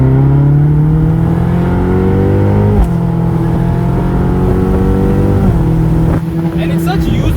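A Ferrari California's engine pulls hard under acceleration from inside the car, a loud rising drone climbing through the revs with brief dips at the gear changes.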